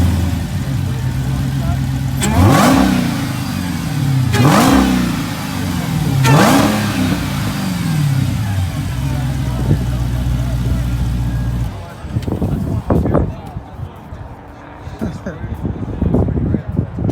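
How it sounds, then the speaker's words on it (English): A car engine revs hard three times in succession with strong air intake noise at a winter car meet, then settles into a lower idle while people talk nearby. "You can hear that air intake in there."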